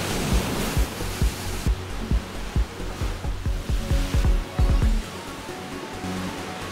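Rough sea and strong wind on the Sardinian coast, a steady roar of surf and gusts with repeated low thumps and buffeting bursts that stop abruptly near the end, leaving a quieter windy hiss.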